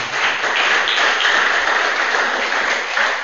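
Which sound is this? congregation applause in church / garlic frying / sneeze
congregation applause in church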